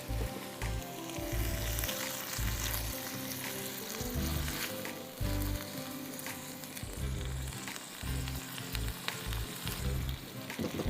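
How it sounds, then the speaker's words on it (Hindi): Spices sauté with tomatoes and green chillies in a hot pan, giving a continuous loud sizzle and crackle, broken by bursts of stirring and scraping throughout. "मसालों में हम सौटे करेंगे टमाटर के साथ"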